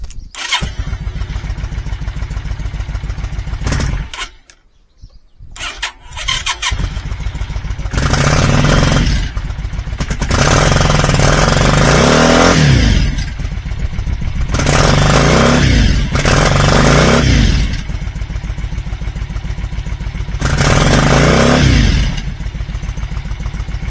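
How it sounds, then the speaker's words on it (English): A Yamaha Virago motorcycle engine cranks and catches, then bogs and misfires in uneven bursts before picking up, with repeated loud revving surges and lumpy idle between them, close to the microphone with no talk. "No real change on the start up, still doing that thing of bogging like it's misfiring and then going."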